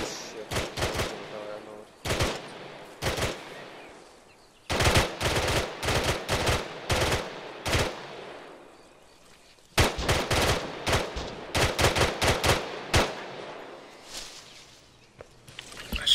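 Bursts of automatic gunfire from a Zeus co-op video game, rapid volleys in several clusters separated by short pauses, loud and close with faint talk in the background.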